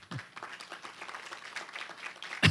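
Applause at an education history event in western Paraná as a speaker is welcomed to the table, a brief patter of scattered clapping from a small audience that ends in a louder final burst.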